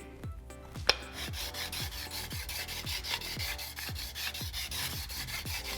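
A file is drawn across the edge of a steel card scraper in regular rasping passes, about one per half-second, close but fairly quiet, with a sharp click near the start and no voices.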